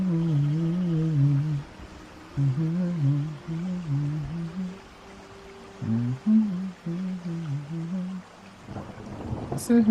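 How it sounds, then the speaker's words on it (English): Rain and thunder in a music track, woven under a wavering, flute-like melody that plays in phrases with brief gaps between them, a low rumble and patter beneath, and a brighter burst of noise at the very end. "Singling out birds, singling out the rain, singling out the flute, the thunder."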